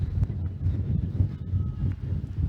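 Wind buffets the microphone at an outdoor youth cricket match on a very windy day, a continuous low rumble with gusty swells and no voices.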